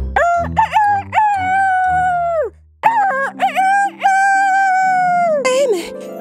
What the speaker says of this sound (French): un coq sauta sur sa tête et se mit à chanter